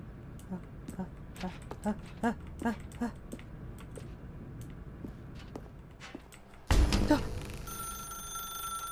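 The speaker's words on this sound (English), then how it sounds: "Now pick up the phone, said the bucket." In the video game The Stanley Parable 2, a telephone bursts into loud ringing after a stretch of quieter clicking and typing-like taps, with talk heard in the scene.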